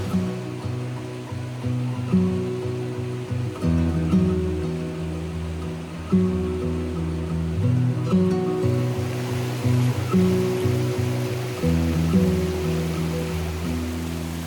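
Water rushes steadily where two creeks meet, a continuous, close wash of flowing creek water with no voices.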